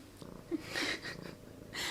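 A kitten purrs close by, a soft low rumbling texture broken by faint breathy snuffles and a few brief higher sounds, quiet and without talk.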